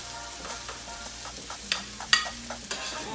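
Teriyaki-glazed hibachi food sizzles on a home griddle as a metal spatula stirs and scrapes it, with a steady fry under a few sharp clanks from the utensil.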